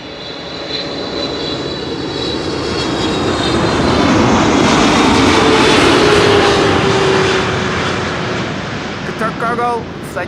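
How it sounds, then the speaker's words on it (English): A Boeing 777 freighter touching down at Schiphol after a long-haul cargo flight, its loud, sustained engine roar swelling and then fading, with a brief burst of voices near the end. "Cargo, flight 8207 this was, arrived from Doha, 777 freighter, touching down after 6 hours and 19 minutes of flight."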